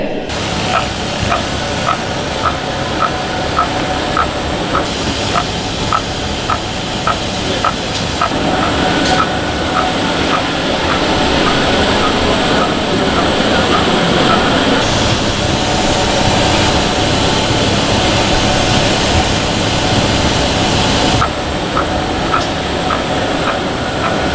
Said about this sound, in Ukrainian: Подачі касет касет потрапляють до наповнювача касет.